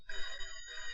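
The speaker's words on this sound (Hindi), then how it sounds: "चलो फोन उठाओ।" A steady electronic phone ring with bright tonal harmonics, continuous and fairly close, with no voices present.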